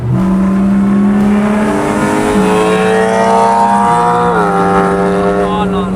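A BMW 335i engine revs up loudly and holds, its pitch climbing in steps as it accelerates and shifts, close and continuous.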